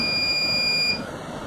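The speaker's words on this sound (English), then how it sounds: "Once one team or one person has hit the buzzer" A quiz buzzer sounds at a science quiz, a steady high-pitched electronic tone held for about a second before cutting off, loud and close over a faint hiss, with no talking.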